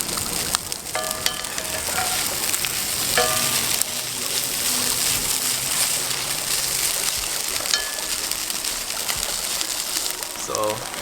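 Chicken and onions sizzle and fry steadily in a pan as they caramelize over an outdoor fire, a continuous crackling hiss with occasional stirring and faint birds in the background.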